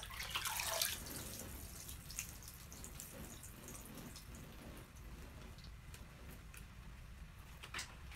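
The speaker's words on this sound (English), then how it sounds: "We're just going to take it and water this in real good." Water poured from a bucket soaks into the soil of a Mittleider grow box, a steady, fairly quiet splashing and trickling that starts with a louder gush and then settles into a continuous soft wash with occasional drips.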